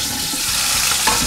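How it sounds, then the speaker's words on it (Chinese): Tilapia fish head frying in hot oil in a pan, a steady close sizzle with faint stirring or shifting sounds through the short stretch. "先煎一下鱼头。"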